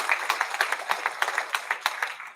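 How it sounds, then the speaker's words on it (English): A small audience at a golf hall of fame ceremony claps steadily, a brisk run of distinct hand claps at moderate distance with no voices over it. "Give him another big round of applause."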